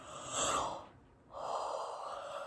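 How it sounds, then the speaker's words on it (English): A long, breathy yawn rises, briefly drops away, then swells again into a drawn-out exhale, close and unaccompanied by speech. "all the yawns"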